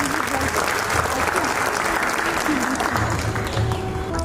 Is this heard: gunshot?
no